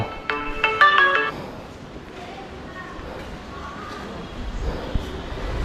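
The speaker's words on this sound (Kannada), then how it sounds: "ಯಾರೋ ಫೋನ್ ಮಾಡ್ತಾಯಿದ್ದಾರೆ." A phone ringtone plays a short melodic burst of tones for an incoming call, then stops, leaving a quiet background with soft low rumble.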